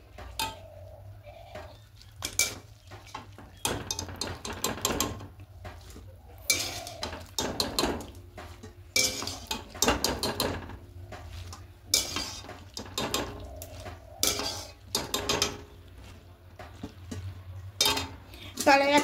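Boiled pasta being tipped into a perforated plate set over a basin, with repeated clattering of metal dishes and utensils, knocks and scrapes in irregular bursts, plus a brief voice.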